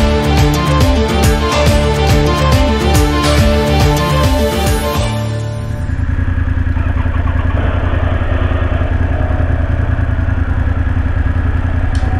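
A Japanese motorcycle engine runs, first revving with a rhythmic, harmonic-rich pulsing, then dropping to a steady, lower idle-like drone that continues evenly to the end, close and loud with no voices.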